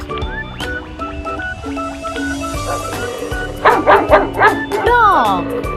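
Several dog barks and yips, some whimpering, come up near the end over a busy bed of cheerful children's music with a voice nearby.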